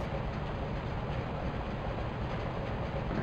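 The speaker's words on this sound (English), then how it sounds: "the train is going away" A train in the video game Covert Ops Nuclear Dawn rumbles as it pulls away, a steady low rolling drone with faint rail clatter and no voices.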